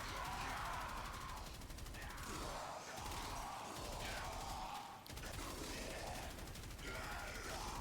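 Reconifex weapon in the game Warframe firing rapidly, a dense, continuous stream of projectile shots with mechanical clatter, loud and close, sustained across the whole stretch with brief dips, no talking.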